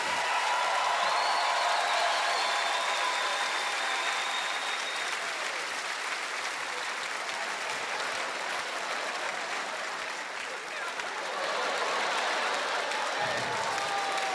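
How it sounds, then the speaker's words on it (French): A Montreal comedy gala crowd gives Ginette a thunderous ovation, sustained dense clapping from a large audience that stays full and steady, dipping slightly before swelling again near the end. "Un tonnerre d'applaudissements pour Ginette!"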